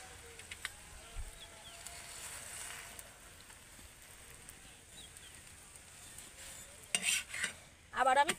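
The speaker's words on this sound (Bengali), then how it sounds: "আবার আমি তেলের মধ্যে উল্টে পাল্টে পরোটাগুলোকে ভালো করে ভেজে নেব।" Cabbage paratha frying in oil on a tawa gives a faint, steady low sizzle, with a few louder clinks and scrapes of a utensil toward the end; no one talks.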